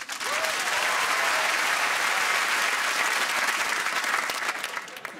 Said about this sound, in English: Round of applause for Wesley.